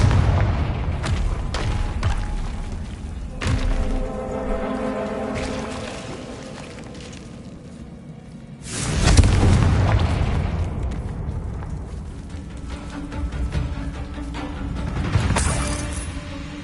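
Confringo fire spell explosions in Hogwarts Legacy, several deep booms with crackling bursts, the biggest near the middle and another toward the end, amid ongoing game sound and music.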